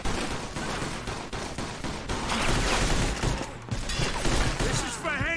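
Dense, continuous gunfire from a Mafia 2 shootout, with rapid overlapping shots and bursts at loud, close range that runs throughout, with no clear voices over the barrage.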